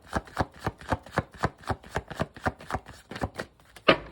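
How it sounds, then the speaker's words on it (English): A tarot card deck being shuffled up close, a quick run of about fifteen evenly spaced soft slapping bursts over four seconds, ending in one sharper riffle. "Last shuffle."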